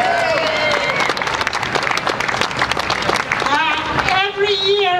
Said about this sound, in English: If you can give her a nice round of applause